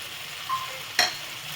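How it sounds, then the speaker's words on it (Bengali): A paste of onion, cashew and raisin frying in a pan while tomato puree is poured in, a soft sizzle with a faint whistle and a sharp clink partway through. "মশলাটা আমি একটু নাড়াচাড়া করে এবার এই টমেটো পিউরিটা এতে ঢেলে দিলাম"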